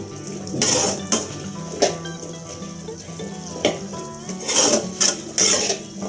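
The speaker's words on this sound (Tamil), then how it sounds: "இப்போ கேஸை ஹை ஃப்ளேமில் வச்சுட்டு கிளறி விடுங்க" Chickpea masala is stirred in a pan over a high gas flame, with intermittent spoon scrapes and clatters against the metal over a low bubbling sizzle.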